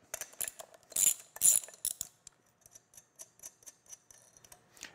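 A ratchet wrench backs a nut off an expansion bolt anchored for an upright post base: quick, close clicking ratchet strokes with a few louder metallic clanks early, then a steady run of softer ticks.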